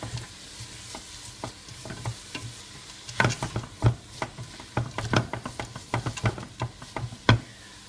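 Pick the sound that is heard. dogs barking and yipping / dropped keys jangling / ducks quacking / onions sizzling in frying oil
onions sizzling in frying oil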